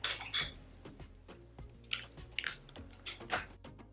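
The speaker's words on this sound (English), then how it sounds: "I'm gonna go ahead and pop the lids onto these." Plastic lids pressed one after another onto mango popsicle molds, a series of close, sharp plastic clicks and snaps with small clattering between them, no talking.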